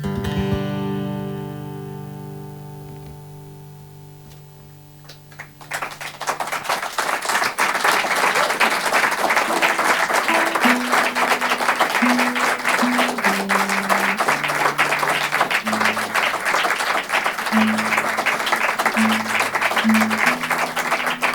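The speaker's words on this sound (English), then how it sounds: "You're not supposed to clap for the same length as I sang." An audience at a live studio concert applauds after a song. A sustained guitar chord rings out and fades first, then clapping bursts in and continues steadily while notes are plucked underneath.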